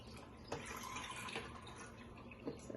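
Liquid poured into a container while making iced coffee, a faint, quiet trickle and splash with a couple of soft knocks, no voices.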